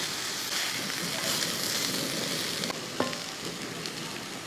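Yam pieces stir-fried in coconut oil sizzle and crackle steadily in a pan, a continuous close frying hiss with light stirring scrapes and one sharper clink near the end.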